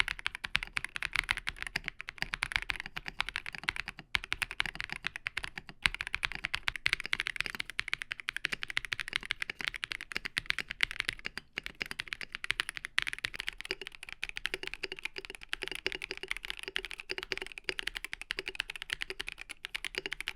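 Rapid continuous typing on mechanical keyboards, an Ikki68 Aurora R2 and a KBD67 Lite fitted with the same switches and keycaps, with dense steady clacking close up and no voices.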